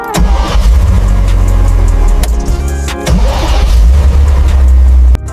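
A 1967 Ferrari 275 GTB V12 engine cranks and catches close by, loud bursts of starter and ignition followed by rough revving and a steady throaty idle with sharp surges.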